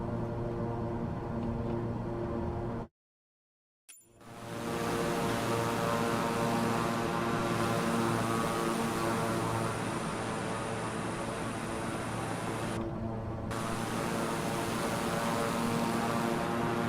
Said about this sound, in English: It's a small plane.